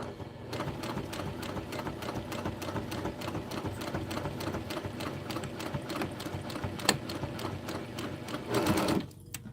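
A sewing machine stitches in a fast, steady mechanical patter, loud and close, with a brief louder burst near the end.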